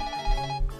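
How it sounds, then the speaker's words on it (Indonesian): A telephone rings in the horror video game Go Home, a short electronic tone with a steady pitch, heard briefly and clearly on its own. "Telepon."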